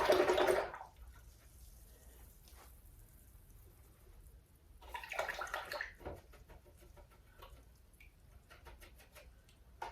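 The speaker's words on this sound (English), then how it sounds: "I'm gonna rinse my brush out." A paintbrush rinsed in a water cup during acrylic painting, with brief swishing splashes at the start and again midway, followed by faint clinks and quiet gaps.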